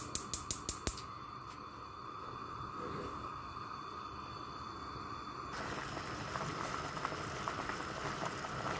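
Red beans boiling in water in a pot, a steady low bubbling churn running throughout, with a few sharp clicks at the start and a brighter hiss joining partway through.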